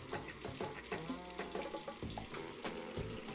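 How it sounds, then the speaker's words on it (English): Water filling a brewing kettle from taps in the brewing simulator game Brewmaster, a steady hissing, splashing pour running continuously under game music with no break. "Probably help if we're going to fill it with water."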